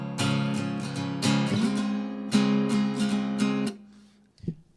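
An electric guitar plays the rhythm of the first part of a song's verse, steady repeated strums on sustained chords for several seconds before stopping, followed by a soft handling noise; close, no voices.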